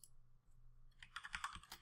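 Rapid clicking of computer keyboard keys being typed while entering settings for the Gunbot v12 trading bot, a quiet stretch first and then a brisk burst of keystrokes in the second half, close and with no voices.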